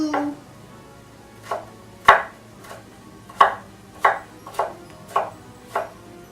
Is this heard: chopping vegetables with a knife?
yes